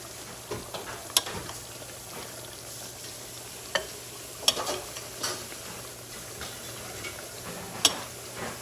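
Tomatoes fry in a pan with spicy tomato gosht, a quiet steady sizzle broken by scattered clicks and scrapes of a spoon stirring, with no talk.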